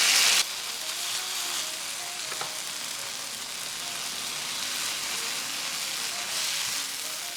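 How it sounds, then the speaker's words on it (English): Kimchi sautés in melted butter in a pan and gives a continuous, even sizzle with a soft rain-like hiss, after a brief louder burst at the start, with faint stirring and no talk. "Put some butter again and saute the kimchi."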